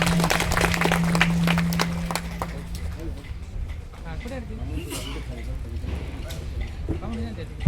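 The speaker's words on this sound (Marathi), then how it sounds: "जोरदार टाळी वाजवा." An audience applauds at a Narmada parikrama closing ceremony, giving a steady patter of many hands clapping throughout, mixed with someone speaking over a loudspeaker and a sustained tone in the background.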